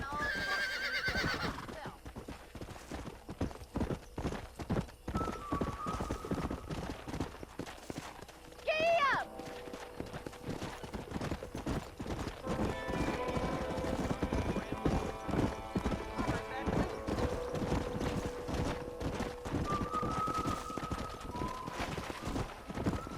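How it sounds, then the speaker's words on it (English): Horses in the video game Red Dead Redemption clip-clop steadily near a train station, with repeated whinnies and neighs rising over the hooves and game voices speaking throughout. "Bringing in all the horses."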